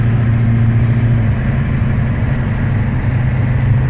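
A 1997 Ford F-250 truck engine running at low RPM as it shifts into overdrive, heard as a loud, steady low drone with road noise, continuous and close, with no speech.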